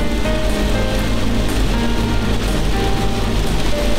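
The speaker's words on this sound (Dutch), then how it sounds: "We rijden in de regen." Rain patters steadily on a car as it drives along a Dutch road toward Zeeland, a dense continuous hiss of drops blended with road rumble and engine hum, with no talking.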